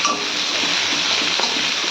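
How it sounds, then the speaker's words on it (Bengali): Chopped onions frying in a pan for a spicy rita fish curry, giving a steady, close, continuous sizzle with no voices. "আর পেঁয়াজটা লাল লাল ভাজা করব"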